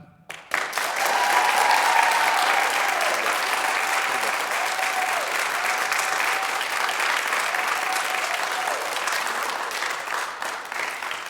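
An audience at a lively Purim service claps to vote for a latke debate position, strong sustained applause rising quickly and holding for about eleven seconds, with no voices.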